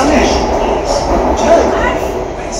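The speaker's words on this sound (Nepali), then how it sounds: "ट्रेन आइयो" A train pulling in on a cold day in New Delhi, its low rumble and rolling noise steady and close, with people talking over it.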